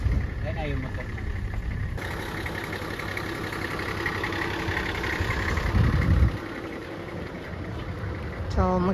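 A motorcycle engine runs steadily near a resort drop-off point, a continuous rumbling drone with voices talking over it.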